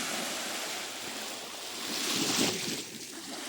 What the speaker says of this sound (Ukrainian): Так, хвилі вже більші.